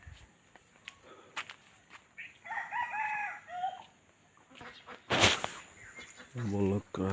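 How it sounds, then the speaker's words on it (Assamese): A rooster crows in a village in the early morning, a clear call in the middle and another near the end, with footsteps, scattered clucks and light rustling nearby; no one speaks. "মুৰ্গী"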